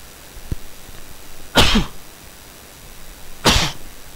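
Two sharp sneezes burst out a couple of seconds apart, close and loud, over a quiet background.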